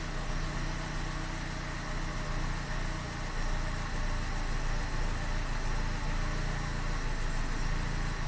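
A Chevy Cruze engine idling roughly, running rich, with a steady broadband rumble and hum that holds at an even level throughout, close and continuous with no talk over it.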